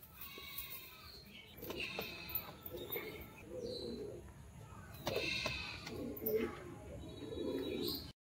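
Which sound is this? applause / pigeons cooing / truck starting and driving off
pigeons cooing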